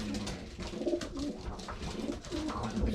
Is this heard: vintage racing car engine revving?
no